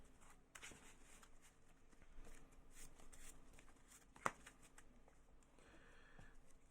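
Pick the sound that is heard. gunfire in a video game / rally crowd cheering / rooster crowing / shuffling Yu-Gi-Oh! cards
shuffling Yu-Gi-Oh! cards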